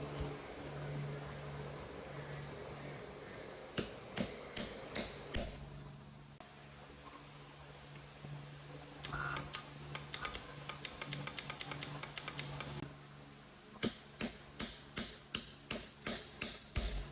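Sharp metallic taps from a hammer strike a Scout 155 outboard motor in quick bursts, several rapid series of knocks separated by pauses, close and fairly quiet.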